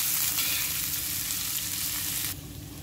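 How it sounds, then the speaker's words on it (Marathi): Onion sautés on an iron griddle for tomato chutney, giving a steady, close sizzle and crackle of frying that eases slightly near the end. "कांदा गुलाबी आपल्याला हा परतून घ्यायचा आहे."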